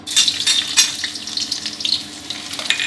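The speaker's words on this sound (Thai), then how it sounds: "พอกระทะน้ำมันร้อนแล้วครับ ก็กระเทียมครับ" Steady, bright sizzling of garlic frying in hot oil, continuous and close, with a faint crackle throughout.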